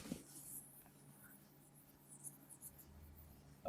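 Pen scratching on paper during an HSC accounting class, faint and continuous strokes close to the microphone, with no talk over it.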